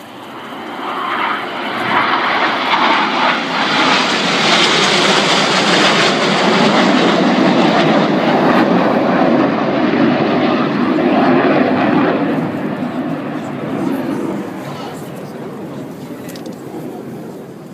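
RAF Red Arrows jets roaring overhead in tight formation rollbacks at Silverstone, a loud sustained jet rush that swells in, holds for many seconds and fades slightly away.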